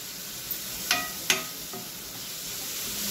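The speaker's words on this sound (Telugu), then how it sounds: "ఆనియన్స్ కాస్త ఆనియన్స్ కాస్త ఫ్రై చేద్దాం." Onions frying in a pan, a steady soft sizzle broken by a few sharp clicks of a utensil against the pan, with no voices.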